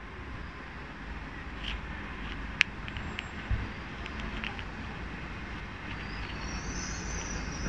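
A Great Western Railway Class 800 passenger train rumbles past nearby with a steady low roar of wheels on track and a few faint clicks and squeals.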